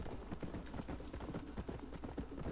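Horse hooves clip-clop at a steady trotting rhythm in the Western video game Red Dead Redemption, close and continuous, running without pause under low game ambience.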